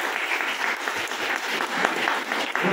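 Participants at a teachers' training workshop clap together, a brisk, uneven patter of many hands at moderate volume filling the short moment without speech.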